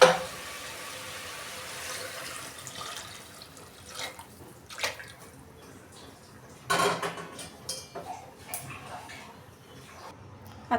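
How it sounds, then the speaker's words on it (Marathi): Hot water is poured into a simmering mutton curry in uneven splashy bursts over low kitchen background noise. "तर गरम पाणी झालेलं आहे ते टाकून घेते मी।"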